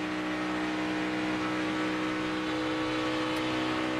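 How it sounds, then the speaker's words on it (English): A 2012 NASCAR Nationwide Series stock car, the Turner Motorsports No. 38 driven by Casey Kahne, leaves pit lane at Daytona International Speedway for a practice qualifying run. Its engine gives a continuous droning whir with no talk. "Casey Kane at Daytona International Speedway just off the pit lane to begin a practice qualifying run"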